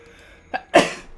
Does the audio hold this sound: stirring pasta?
no